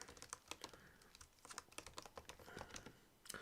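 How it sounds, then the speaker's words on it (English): Rapid clatter of typing on a computer keyboard, many quick keystrokes in uneven bursts, fairly close and clear with no talking. "What you typing over there?"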